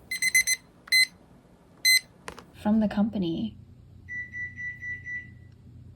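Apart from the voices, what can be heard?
oven timer beeping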